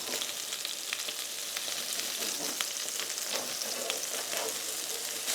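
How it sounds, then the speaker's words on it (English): Maple rosemary chicken sausages sizzle in a hot frying pan with a steady, close crackle of fat and small popping bursts. The sound continues evenly throughout with no voices. "So when it's been sizzling for about a minute, I'm gonna turn it down to medium"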